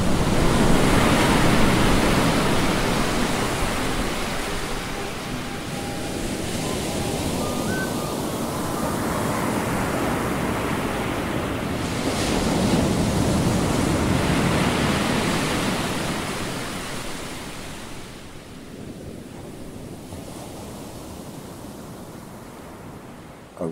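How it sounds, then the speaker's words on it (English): Strong sea waves off the eastern side of Alor roar continuously with heavy wind buffeting, a dense rushing surge that swells and eases across the whole stretch. "The seas around the eastern side of Alor are notorious for their strong winds, powerful currents, and vicious waves."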